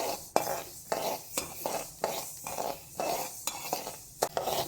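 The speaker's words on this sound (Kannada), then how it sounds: "ಇವಾಗ ಸಾಸಿವೆ ಹುರ್ಕೋತಾ ಇದೆ. ಸಣ್ಣ ಉರಿನಲ್ಲಿ ಸಾಸಿವೆ ಹುರ್ಕೊಳ್ಳೋಣ." Mustard seeds fry in oil over a low flame for a Karnataka-style mango pickle tempering, giving a soft sizzle broken by repeated sharp clinks and scrapes of a spoon stirring in the pan.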